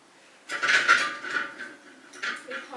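A metal spoon clinks and scrapes against a dish holding an ice cube, a few bright, close metallic rattles bunched together, then a shorter clatter near the end, with no talking.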